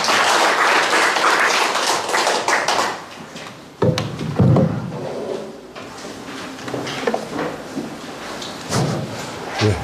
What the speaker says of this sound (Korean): 큰 박수로 맞이합니다.